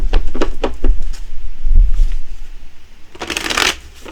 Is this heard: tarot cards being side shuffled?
yes